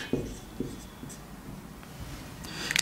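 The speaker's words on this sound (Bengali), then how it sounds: "প্রেসিডেন্ট বড় হাতের আমি লিখি, লং লিভ আওয়ার প্রেসিডেন্ট" Marker or chalk strokes on a classroom board as an English sentence is written, a few short scratchy taps and scrapes, close and fairly quiet with room hum and no talk.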